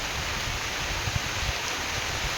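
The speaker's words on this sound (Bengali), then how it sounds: "ঝমঝম করে বৃষ্টি হচ্ছে" Steady, dense rain hiss from a rainstorm fills the clip without a break, a broad wash of water noise with a low rumble underneath and no voices.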